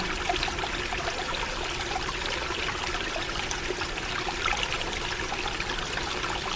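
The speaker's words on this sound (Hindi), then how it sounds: "यहाँ आपको नदी की आवाज़ सुनाई दे रही है।" A river flows in a village setting, giving a steady, continuous rushing and trickling of water that stays fairly close and even throughout, with no voices.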